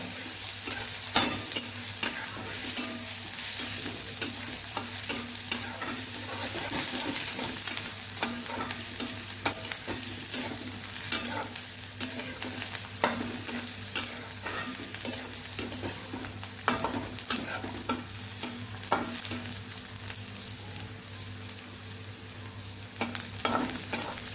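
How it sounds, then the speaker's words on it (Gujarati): Onions sauté with a steady sizzle in a pan while a utensil scrapes and clinks against it at frequent, irregular intervals. "કાચ જેવી ડુંગળી થાય ત્યાં સુધી આપણે એને સાતળવાની છે"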